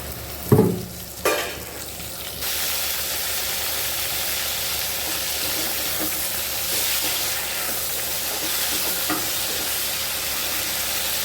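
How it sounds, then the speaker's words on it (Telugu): Red chillies fry in a little oil in a pan, opening with a couple of sharp clatters before a steady, loud, close sizzle and hiss carries on alone. "పండుగ మిరపకాయలో నూనెలో కొంచెం వేసుకోవాలి"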